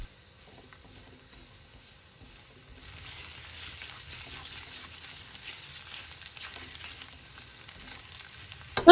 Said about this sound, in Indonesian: kita kurangin minyaknya sedikit dan kita goreng udang ebinya sampai kering